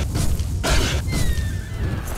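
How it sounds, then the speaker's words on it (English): Rock shattering in the video game Oblivion: a loud broadband crash bursts out near the middle, alongside steady rumbling game sound and a faint descending whistle-like tone. "We're rock shattering."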